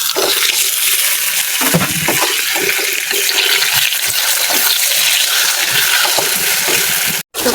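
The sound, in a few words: taro stems added to frying pan with hilsa head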